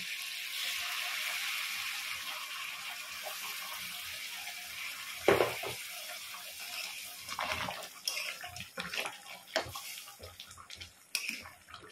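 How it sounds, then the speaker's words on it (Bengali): Boiled hot water pours into a pot of meat browning in oil, a soft continuous rush and splash with faint sizzling and clinks toward the end, fairly quiet. "এবার ফোটানো গরম জল দিচ্ছি।"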